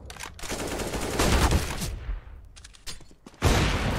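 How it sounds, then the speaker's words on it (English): A grenade in Counter-Strike on Dust2 in a competitive match, with dense rapid gunfire and loud bursts that build, drop off, then resume sharply near the end, in a busy mix with no voice. "that's a nade if I've ever seen a nade"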